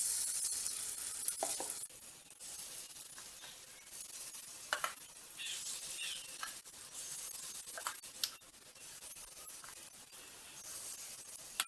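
Sweet rava appam batter with country jaggery, dry ginger and cardamom sizzles in hot oil in a kuzhi paniyaram pan: a steady, fairly quiet frying hiss with small crackles and a few soft spoon clicks, no talking.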